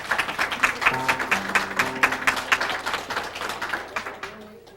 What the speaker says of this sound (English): And we'd like to give you a clap.